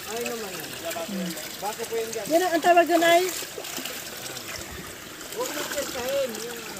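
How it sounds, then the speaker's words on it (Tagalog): Spring water trickles and splashes steadily at a rural drinking-water source, a continuous bright babble heard beneath people talking nearby. "Spring water. spring water."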